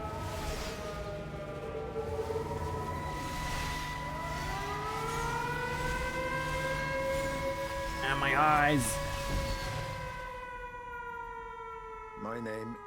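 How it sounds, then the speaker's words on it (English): Rising and falling siren wail in the video game Everybody's Gone to the Rapture, sustained and fairly loud, sweeping in pitch over a low ambient drone, with a brief spoken voice over it. "Oh, it's Frank running the siren."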